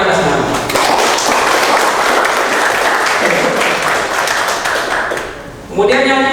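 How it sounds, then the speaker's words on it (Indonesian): Audience clapping at an orientation opening event for an entrepreneur training program, a dense steady patter of many hands lasting several seconds, fading briefly near the end before a voice returns. "Tepuk tangan buat kita semua"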